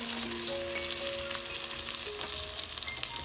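Bread halwa mixture with raisins and whole garam masala fries steadily in a pan, a continuous close sizzle with faint tonal hum underneath and no talking.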